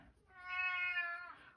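A loud house cat lets out a single drawn-out meow in an office, clear and close, rising then falling, alone against a quiet room.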